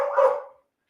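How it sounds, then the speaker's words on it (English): A single loud bark from Benny the dog, close and sharp, fading out within about half a second with no talk over it. "Benny only barks when I turn this microphone on"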